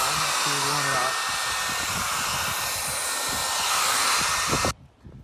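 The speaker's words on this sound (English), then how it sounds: "We're using the hair dryer now to warm it up." A hair dryer blows loudly and continuously, warming a car bumper for dent repair, a steady airy whoosh with small bumps of handling noise, then cuts off abruptly near the end.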